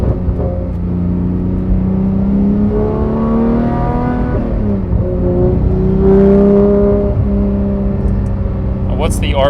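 A Porsche GT3 engine drops through gears, its exhaust note swooping down and back up in revs over a steady rumble, heard from inside the car while people talk over it.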